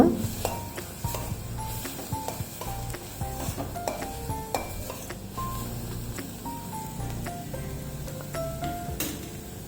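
A spoon stirs ragi soup with coriander leaves in a pot, producing steady scraping and light clinks against a faint sizzle, continuous and close with no talking.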